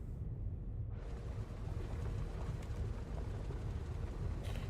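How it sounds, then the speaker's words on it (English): The Clipper spaceship's engine in a video game swells abruptly from near quiet into a loud, wide, rushing roar that holds steady, with a short hiss near the end. "Make sure you all also listen to the engine sounds."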